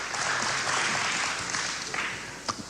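A live radio studio audience applauds a singer at her 1996 album premiere, a broad, steady patter of clapping that fades away within a few seconds.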